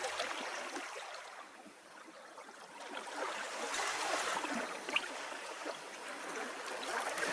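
Water flows and trickles nearby in a soft, continuous babble, rising and falling gently without any voices.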